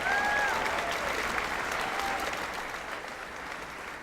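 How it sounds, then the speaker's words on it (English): Broad applause from a large audience at a student athletics awards show, a steady dense roar of clapping that fades slowly over a few seconds with no talk. "Let's give a round of applause for all of our student athletes tonight."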